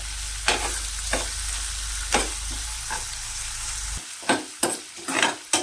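Finely chopped onion fries in hot oil in a pan, giving a steady close sizzle broken by several sharp scraping stirs, with no voices over it.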